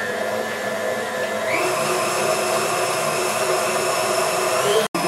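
An electric mixer whirs steadily as it blends a galette des rois filling, a continuous loud motor drone that shifts up in pitch partway through, then cuts out briefly near the end before resuming.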